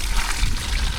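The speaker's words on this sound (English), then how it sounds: "Putting some water in them now." Water is poured over freshly picked sunflowers, giving a brief, steady splashing close by.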